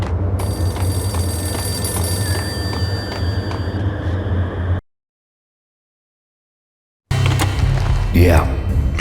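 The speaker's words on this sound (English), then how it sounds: "The payphone started to ring." Payphone ringing in the video game Max Payne, a loud repeated electronic bell that cuts out into a stretch of silence before game sounds return, with speech present.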